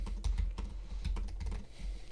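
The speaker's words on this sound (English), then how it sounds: "And because it's shallow travel, I can type extremely fast on it." Fast typing on a shallow-travel laptop keyboard, a dense run of quick, light key clicks with a few heavier strokes, close and steady throughout with no voices.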